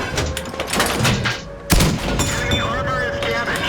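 A tank cannon fires a shell in a World War II tank video game, one sharp booming shot midway through amid scattered distant gunfire, with someone talking over it.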